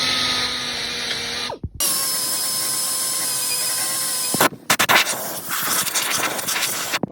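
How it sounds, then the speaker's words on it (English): A power sander whines steadily at close range against rusty BMW M3 body metal, pausing briefly twice before grinding on with a rougher, harsher scraping tone. "belt sander needs to get up all this section"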